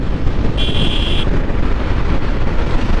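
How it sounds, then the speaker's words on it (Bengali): Wind roars and buffets steadily against a rider on a Yamaha Fazer motorcycle, a dense, loud rushing noise with a brief high whine partway through. "বাতাসে প্রচুর বাড়ি মারতেছে।"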